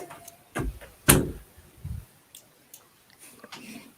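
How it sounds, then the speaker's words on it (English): A bedroom door is shut with a few soft knocks and clunks, one sharper thud standing out among quieter handling sounds and faint rustling in a quiet room. "Let me shut my door."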